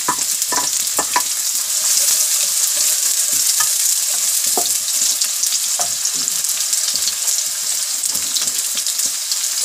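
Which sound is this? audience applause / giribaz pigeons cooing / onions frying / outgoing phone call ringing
onions frying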